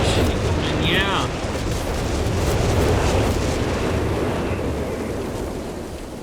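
Continuous low rumbling of distant artillery blasts rolling together in a Company of Heroes 3 World War I style creeping barrage, steady and heavy throughout, with a brief whistling shell passing early on.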